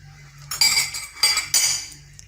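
A metal spoon stirs cold tart filling ingredients in a bowl, giving a few bright clinking scrapes against the sides in short bursts with pauses between them.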